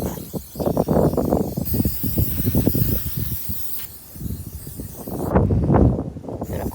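Cleaner is sprayed onto a truck outdoors in gusty wind, heard as repeated short bursts of hiss in uneven rhythm, close and fairly loud.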